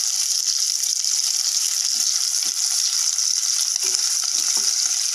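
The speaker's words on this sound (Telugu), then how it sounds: "అదేవిధంగా కొన్ని మిర్చి, అలాగే ఆనియన్స్, ఇది గోల్డెన్ కలర్ వచ్చేంత వరకు ఫ్రై చేసుకున్నాం." Onions and green chillies frying in hot oil, a constant loud sizzle up close with faint intermittent stirring clatter.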